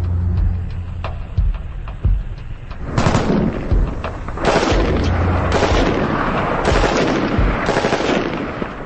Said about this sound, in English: Can the M14 pass the helmet test in full automatic?